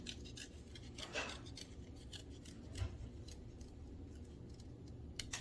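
Scissors snipping through paper during a kids' craft project, a quiet series of crisp, irregular cuts with soft rustling between them, close and without talk.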